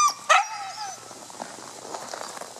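Sled dogs bark outdoors. Two or three sharp yips come close together at the start, then fade into scattered, fainter canine whines and movement.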